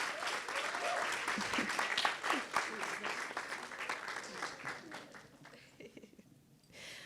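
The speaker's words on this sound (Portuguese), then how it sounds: "Uma salva de palmas" A conference audience gives a round of applause at a panel on Black memories, with brisk, dense clapping that holds steady and then thins out and fades near the end.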